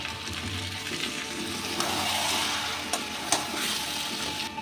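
Chicken masala with fried onion, onion paste and a splash of water sizzling steadily in a pan, a continuous close frying hiss with a few soft stirring knocks and scrapes.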